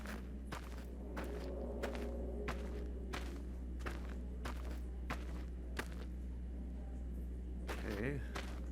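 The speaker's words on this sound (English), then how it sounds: "I'm trying to see if I can tell where he is based on the sounds of those footsteps" Steady footsteps on carpet in a haunted casino mod for Fallout: New Vegas, a regular series of soft muffled thuds over a low constant hum, with a brief voice near the end.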